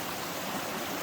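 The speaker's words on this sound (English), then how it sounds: "I've come to my first real water crossing" A mountain stream at a hiking trail water crossing makes a steady, faint broadband rush of flowing water with no other sounds.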